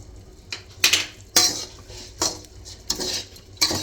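A spoon stirs cardamom powder into a coconut barfi mixture in a pan, giving a series of sharp metallic clinks and scrapes at an irregular rhythm, close and fairly clear.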